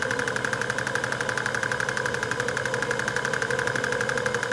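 Steam engine ticking over at about 500 revs with 60 psi of boiler pressure, giving a soft, even, rapid rhythmic beat that runs steadily throughout.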